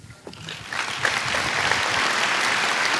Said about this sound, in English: Senator Charles Perry claps along with the audience from the front row.